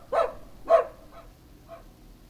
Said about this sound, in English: A dog makes this sound.